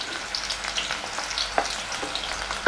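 Onions sauté in a pan for a potato capsicum gravy, giving a steady close sizzle with occasional light scrapes and clinks of stirring.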